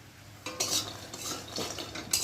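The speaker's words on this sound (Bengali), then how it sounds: "বড়িটা না ভেজে নিলে না ভালো লাগবে না," Lentil dumplings (dal bori) frying in oil, a quiet sizzle punctuated by a few sharp spatula stirs and scrapes in the pan, close by with no talking.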